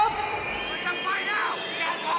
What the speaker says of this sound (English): The crowd showing their disapproval as 30 seconds remain in this round three